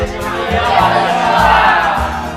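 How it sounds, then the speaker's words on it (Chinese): Students in a crowd whoop and heckle together, a steady, loud wash of overlapping voices with cheering peaks throughout. "别起哄了，快散了散了散了。"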